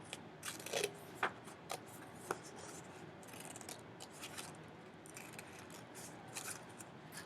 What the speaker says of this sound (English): Now, when I cut this out, it is going to be my free form shape.